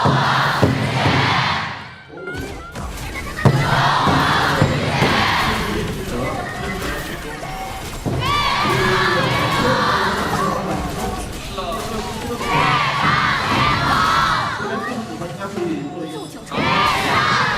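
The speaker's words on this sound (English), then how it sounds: "as we put on focus to the crowd, showing respect, showing love to the teams." A large esports arena crowd at the KPL Grand Finals knockout stage cheers and shouts loudly in rolling waves, with a short dip in the middle and a commentator talking over the noise.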